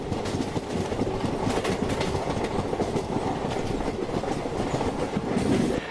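Kaveri Express passenger train running on rails between Mysuru and Chennai, a loud continuous rumble with rhythmic clickety-clack wheel beats, heard close from on board.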